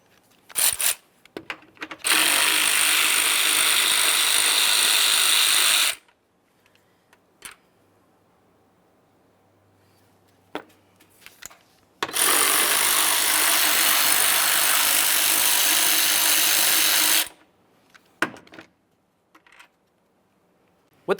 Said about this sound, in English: Now there's two pieces of mounting hardware to remove, two 10mm headed mounting bolts